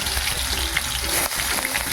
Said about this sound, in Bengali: কড়াতে একটু তেল দিলাম, আলুগুলো আগে ভেজে নেব।